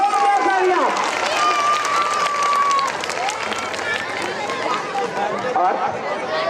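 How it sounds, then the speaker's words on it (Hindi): A standing crowd at a Ram Lila community gathering applauds children, a continuous broad roar of clapping mixed with cheering voices and chatter for several seconds. "एक बार सब लोग जितने भी खड़े हैं, जोरदार तालियां।"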